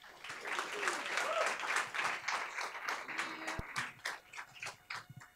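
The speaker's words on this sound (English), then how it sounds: "give a big round of applause and welcome up Kim" Audience applause welcoming a speaker to the stage at a design talk: dense, sustained clapping from a roomful of people, loud and steady before thinning out toward the end, with a few voices mixed in.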